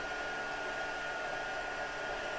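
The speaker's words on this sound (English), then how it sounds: "let's heat up this embossing powder" A heat tool blows a steady, even whoosh of hot air over embossing powder during paper crafting, a constant airy hum with no voices.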